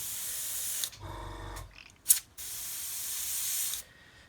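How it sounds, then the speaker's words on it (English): Airbrush spraying pre-thinned model paint in short bursts, with a back-blowing gurgle in the cup to stir it; steady close hiss stops briefly, then resumes alone. "I'm going to use the back blowing method to try and stir it rather than put anything in there that's going to contaminate it."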